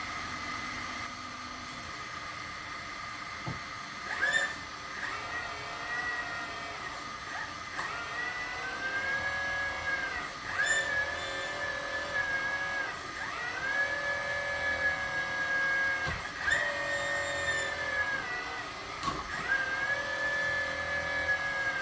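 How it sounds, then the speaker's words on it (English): A hydraulic pump on a radio-controlled excavator whines steadily nearby, its pitch repeatedly rising and settling as the arm moves, with occasional clicks and knocks in between. "So I'll turn my pump back on."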